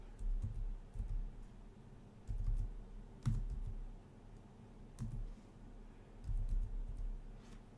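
Typing on a computer keyboard during a coding session, short bursts of soft clicking keystrokes separated by brief pauses, close and quiet with no talk.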